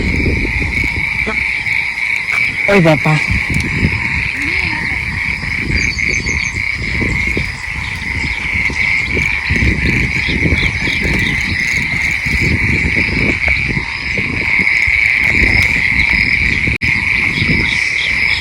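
Frogs croak from a pond or flooded water, a steady dense chorus mixed with insect-like trilling that runs throughout, fairly loud, with a man briefly exclaiming over it.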